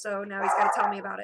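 A pet dog gives a short whining, yipping vocalization, close and moderately loud, lasting about a second while a person talks over it.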